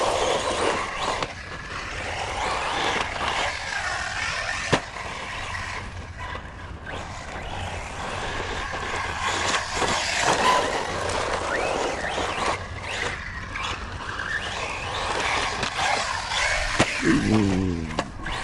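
Team Corally Syncro4 RC car running over jumps outdoors, a continuous buzzing motor with scraping, rattling landings and a few sharp impacts, close and fairly loud, with no talk.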